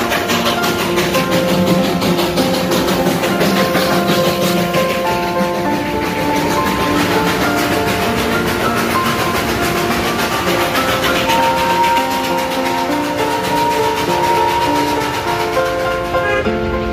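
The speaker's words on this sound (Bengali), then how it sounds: "এই হচ্ছে দার্জিলিংয়ের ঐতিহ্যবাহী টয় ট্রেন।" Darjeeling's heritage toy train running, heard as a loud continuous rumble with tonal engine and wheel noise that holds steady throughout, with no talk.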